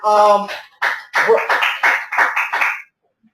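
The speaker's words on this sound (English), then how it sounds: "Everybody's clapping for you" On a training call, a short voiced sound opens, then a quick run of about seven sharp claps, close and fairly loud, before it stops.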